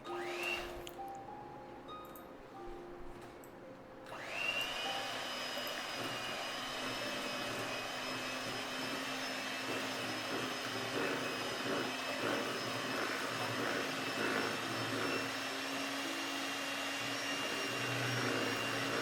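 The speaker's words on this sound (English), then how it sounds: "give it a good mix with the hand mixer" An electric hand mixer whirs steadily as it beats cream cheese filling with vanilla for a no-bake eggless mango cheesecake, starting with a sharp rise in pitch and then running continuously and fairly loud until the end.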